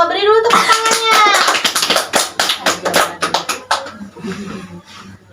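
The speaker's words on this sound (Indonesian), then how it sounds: "Beri dulu tepuk tangannya." Children in an Islamic studies lesson on Abu Bakar As-Siddiq clap for a classmate, a close, lively burst of sharp hand claps lasting a few seconds after a voice, then thinning out and stopping.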